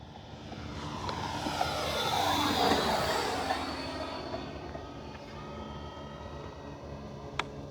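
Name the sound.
FMS T-28D Trojan RC model airplane motor at half throttle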